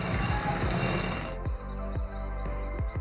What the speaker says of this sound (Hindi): रहीम यार खान, खानपुर और राजनपुर में भी मूसलाधार बारिश से मौसम सुहाना हो गया।